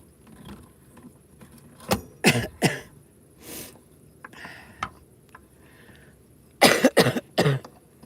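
Several harsh coughs close to the mic, a quick cluster of three followed by quieter stretches, then another loud burst of coughing near the end.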